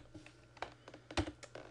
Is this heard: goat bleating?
no